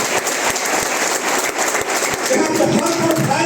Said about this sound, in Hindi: उनके लिए जबरदस्त ताली जबरदस्त